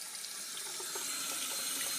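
Tap water runs steadily into a measuring cup for cooking rice, a close, continuous splashing hiss with no talking over it.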